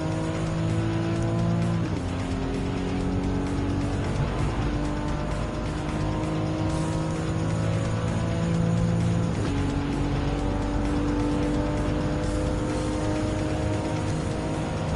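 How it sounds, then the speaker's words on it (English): Racing cars in the Gran Turismo 7 video game, including a tuned EG Civic and an RE Amemiya FD3S RX-7, roar continuously at high revs. The engine drone shifts pitch with gear changes under faint tire noise. "Now, time to catch up on to Kokubun in position 1 in the RX-7"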